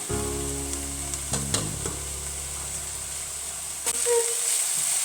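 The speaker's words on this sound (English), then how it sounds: "now we start to add our rice to our kale" Rice tipped into a pan of frying kale gives a close, steady sizzle with a few stirring clatters, and a low hum that cuts out near the end while the hiss continues.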